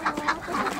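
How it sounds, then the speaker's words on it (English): A young rooster gives a quiet, faint attempt at crowing in a suburban backyard flock, a short wavering call lasting under a second. "It was a very quiet crow, quieter than our ducks, quieter than our clucking hens."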